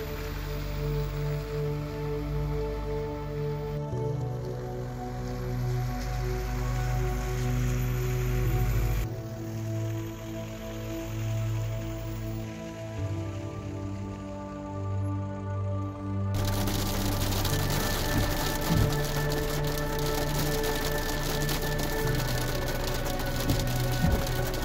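Heavy rain drums steadily on a caravan roof and walls during a thunderstorm at a campsite, with a constant loud wash that thickens further partway through, plus a low tonal hum underneath.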